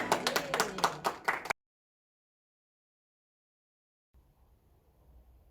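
Clapping in a church during a youth service, a burst of hand claps that stops abruptly, followed by silence and then faint low room noise.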